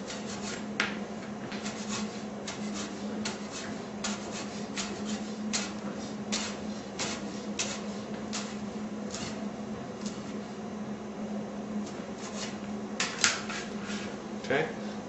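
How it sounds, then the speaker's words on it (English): A knife slicing rolled-up fresh basil leaves into strips for bruschetta, a steady run of soft, quick chopping taps against a cutting board beneath a constant low hum, with a few sharper knocks near the end. "I'm going to roll them up like so, and then cut strips"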